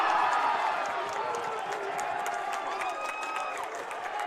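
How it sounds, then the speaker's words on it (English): Basketball crowd roaring during a close women's college game, Brevard vs. Berry, around free throws, a steady loud wash of voices with scattered whoops and some clapping throughout. "Crowd roaring."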